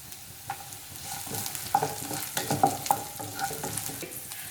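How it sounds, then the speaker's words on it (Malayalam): Garlic and green beans stir-fry over a high flame for vegetable fried rice, a soft continuous sizzle with clicks and clanks of the spatula against the pan, fairly quiet and with no voices. "ഇളക്കി കൊടുത്തുകൊണ്ടിരിക്കുക കേട്ടോ."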